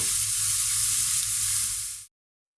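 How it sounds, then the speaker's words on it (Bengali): Sliced bitter gourd fries in a pan for a Bengali dish, giving a steady loud sizzle that cuts off abruptly after about two seconds. "ভাজিটা করে নিচ্ছি"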